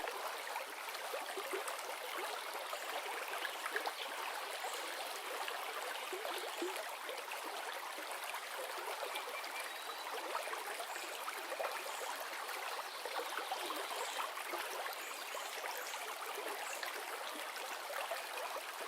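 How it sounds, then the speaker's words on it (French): A stream of water flows and trickles between stones, a steady, continuous broadband rush that holds at an even level throughout with no other sounds. "le doux son de l'eau qui serpente entre les pierres et suit son cours"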